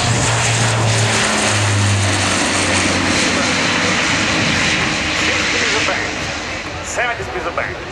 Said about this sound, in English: 3, 2, 1, and the aircraft is ready to lift off.